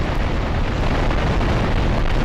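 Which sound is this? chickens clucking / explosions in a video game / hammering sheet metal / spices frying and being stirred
explosions in a video game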